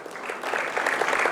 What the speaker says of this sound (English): Can we have a big round of applause for Ms.